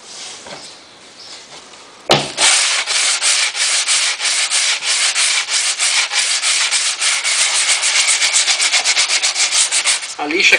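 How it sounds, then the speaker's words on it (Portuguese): Sandpaper rubs back and forth over a freshly glued seam on the deck of a model NCR65 sailboat, a loud, close, steady scratching that starts abruptly and keeps an even rhythm of strokes. "Enquanto a cola tá mole, dá uma lixada que o pozinho sela."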